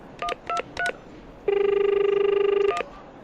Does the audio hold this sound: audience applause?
no